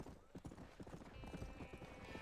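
A horse's hooves clip-clop in a quick, steady gallop rhythm in the Red Dead Redemption video game, moderately close, over faint game ambience.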